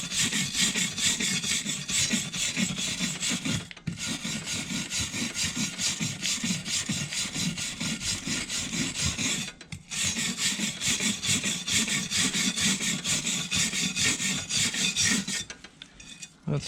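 Mechanical scrubbing of rust from a Carter No.7 jointer plane, a loud, continuous rasping and grinding at close range in long strokes, broken by two brief pauses.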